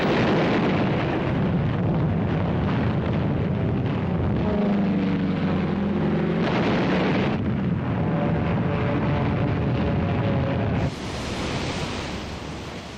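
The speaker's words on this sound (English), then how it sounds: "Wave after wave of American aircraft paved the way with a massive aerial bombardment." Massive WWII aerial bombardment by American aircraft, heard as a dense, sustained rumbling roar of blasts on an old archival film soundtrack, loud and continuous with a brief drop near the end.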